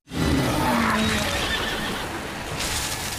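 A horse on a beach lets out a loud, close neigh that quavers and fades over a few seconds, with a rough breathy wash behind it and no talking.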